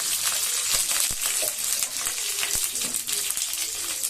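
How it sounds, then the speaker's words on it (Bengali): Mustard seeds and curry leaves frying in hot oil in a home kitchen, with a steady sizzle broken by sharp, scattered popping and crackling bursts. "সর্ষে দিয়ে দেবো সর্ষেটা একটু ফুটলে তার মধ্যে আমি একটু কারি পাতা"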